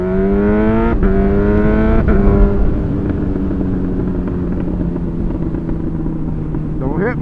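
A Honda CB1000R motorcycle with an aftermarket exhaust is ridden around town. Its engine is loud and close, with rising revs and gear-change dips in the first seconds, then a steadier drone and a final quick rev, with wind noise throughout.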